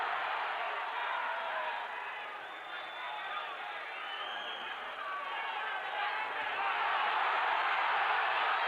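Boxing arena crowd during the third round of Terry Marsh versus Akio Kameda, a dense, steady roar of cheering and shouting that swells louder toward the end, with no clear speech over it.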